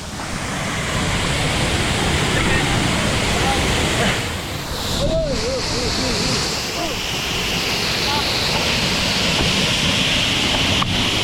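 Payaran Falls in rainy weather roars as a constant, loud broadband rush of falling water close by, with a voice briefly rising above the noise partway through.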